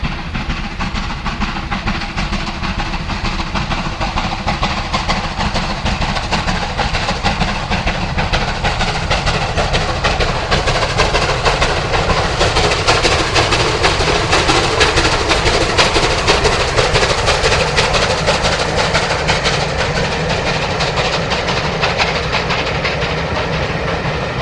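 A British steam locomotive hauls a VSOE lunch circular on the mainline at Little London, a loud continuous roar of exhaust and hissing steam with rolling wheel noise, steady and close throughout with no voices.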